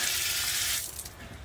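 Water gushes from a tap into shower basins in a loud, steady hiss that drops to a softer splashing trickle partway through, with no voices.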